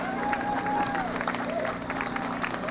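Royal Oak residents at a Memorial Day parade clap steadily in a continuous outdoor patter, heard at a distance through crowd murmur and nearby talking.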